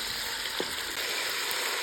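Meat frying in a hot pot gives off a steady, close crackling sizzle, with a faint clink partway through and no talk.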